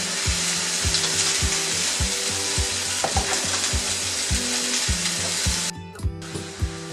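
Vegetables and prawns stir-fried with fish sauce and soy sauce, a steady loud sizzle broken by regular knocking strokes of the utensil against the pan, the sizzle cutting off briefly near the end.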